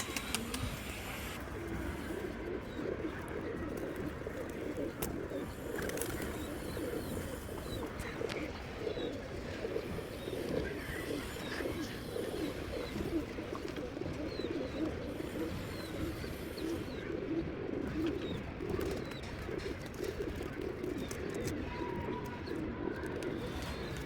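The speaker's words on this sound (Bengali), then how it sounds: "অনেক সুন্দর কবুতর এটা" Pigeons coo repeatedly at moderate distance against a steady outdoor background, the soft throaty calls recurring throughout with a few faint chirps from other birds.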